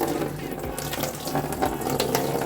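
Antifreeze drains out of a Honda CBF600S motorcycle's cooling system in a steady splashing, trickling stream, close and continuous, with no talk over it.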